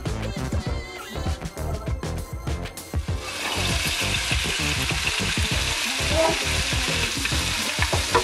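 Vegetables for Korean japchae stir-fried in a pan: rapid clanking, scraping utensil strokes at first, then a denser steady sizzle with continued stirring taps, near and fairly loud.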